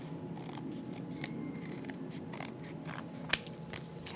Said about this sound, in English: I'm going to use my scissors to trim all the excess away